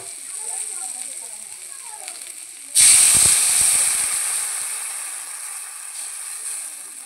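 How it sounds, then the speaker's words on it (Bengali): Water splashes into a pan of frying okra and shrimp, setting off a sudden loud hiss of sizzling and steam that slowly fades while continuing; a voice is faintly present. "এবার আমি জল দিয়ে দেব"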